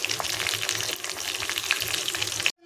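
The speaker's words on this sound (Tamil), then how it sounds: "லோ ஃப்ளேமில் வச்சு நல்லா ஃப்ரை பண்ணிங்கன்னா தான் நல்லா வேகும் சிக்கனு." Chicken 65 pieces deep-frying in oil over a low flame crackle with a steady, dense sizzle that runs continuously for over two seconds, then cuts off abruptly.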